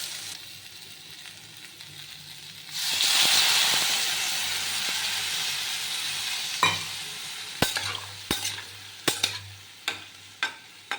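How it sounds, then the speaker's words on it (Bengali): Water poured into spices frying in a pan sets off a sudden loud hissing rush of steam that slowly fades, followed by several sharp clanks and scrapes of stirring, close by with no talking. "এবার আমি এটাতে জল দিয়ে দেবো"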